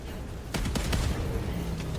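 Explosions and gunfire in a shooter video game: several sharp, booming blasts land in quick succession over a dense, continuous wash of battle noise.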